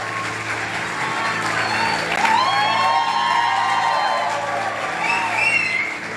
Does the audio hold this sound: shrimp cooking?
no